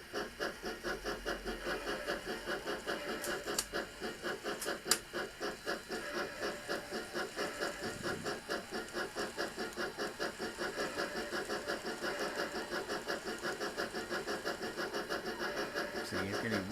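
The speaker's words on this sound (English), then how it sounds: "he's getting wheel slip again as he tries to pull the coaches round the corner" An N gauge model locomotive grinds steadily as it slips its wheels while hauling coaches around a curve on a layout, giving a continuous close mechanical whir and rattle with little variation throughout.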